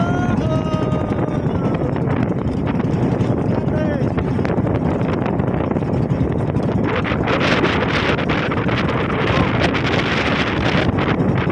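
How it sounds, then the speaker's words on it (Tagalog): Strong wind at sea roars and buffets the microphone nonstop on a fishing trip, a loud, rough rush that drowns out everything else. "Lakas na ng hangin."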